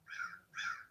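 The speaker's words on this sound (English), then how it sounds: "the crows even talking" Two drawn-out crow caws in a row, loud and close, each harsh and nasal, with the start of a third cut off at the end and no voices.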